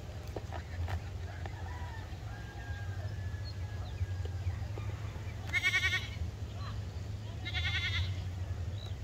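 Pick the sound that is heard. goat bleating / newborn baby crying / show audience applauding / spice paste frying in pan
goat bleating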